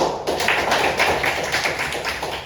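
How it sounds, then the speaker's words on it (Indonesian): Applause in a school classroom, a steady patter of many hands clapping together at close range, fairly loud and continuous without talk. "Tepuk tangan."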